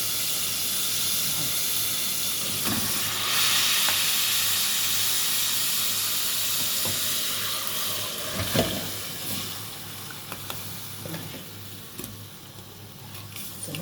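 Tomatoes go into a pot of hot onions for Egyptian koshari, bringing a loud, steady sizzle and hiss of frying that gradually settles. Stirring bumps and clatters break in toward the end.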